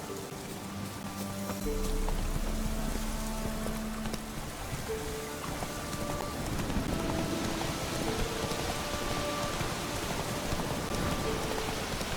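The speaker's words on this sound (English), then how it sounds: "Looks like rain." Rain in The Witcher 3, a dense steady patter on surfaces with soft ambient game music tones underneath, continuous and moderately loud, no talk.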